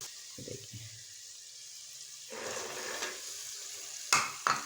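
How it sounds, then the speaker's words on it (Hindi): Peas frying in a pan for vegetable pulao as spices go in and get stirred, a quiet sizzle with some low clinks early on and a couple of sharper scraping knocks near the end. "ये देखिए हम इसमें मसाले ऐड कर रहे हैं।"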